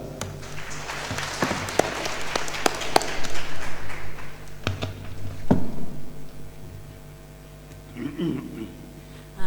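Applause at an international university symposium as a keynote speaker is welcomed, scattered claps rising into a fuller round from a modest audience, then thinning out, and a voice briefly starts speaking near the end.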